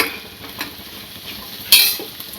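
Softened onions with turmeric powder being stirred in a pan for beef curry, a low sizzle with a few spoon scrapes and one sharp metallic clink near the end, close up.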